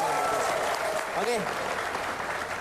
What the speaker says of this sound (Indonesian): tepuk tangan untuk Nabila dong